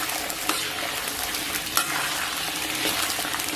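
Chopped scallion and ginger, with chili sauce, are stir-fried in lightly warmed oil in a wok for spicy beef noodles: a steady, dense sizzle with a couple of sharp spatula clicks against the pan and no voices.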